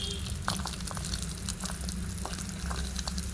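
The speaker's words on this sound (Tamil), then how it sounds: "இப்போ கடுகு பொரிஞ்சிட்டு நம்ம கருவேப்பிலை போட்டுக்கலாம்" Mustard seeds and curry leaves splutter in hot oil in a tiny miniature pan for chicken kuzhambu, a steady low sizzle broken by scattered sharp pops and crackles.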